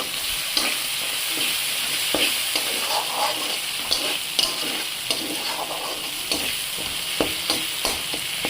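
Spice paste with Kashmiri chili powder sizzles steadily in a pan, with a continuous close frying hiss broken by repeated scraping stirs, no voices.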